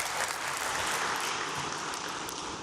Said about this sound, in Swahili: Tujipigie makofi wanachama.